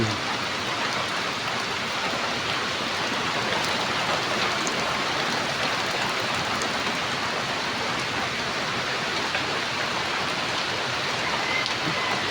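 Heavy rain pours down in a dense, steady roar of drops on surfaces, loud and unbroken throughout.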